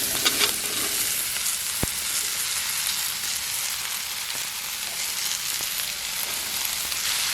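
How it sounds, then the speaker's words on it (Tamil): Ash gourd pieces sauté in hot oil for a Jaffna-style curry, giving a steady, close, dense sizzle with a brief sharp scrape near the start and no voices. "இது இந்த எண்ணெயில் நல்லா இந்த காயும் கொஞ்சம் நேரம் வதங்கணும்."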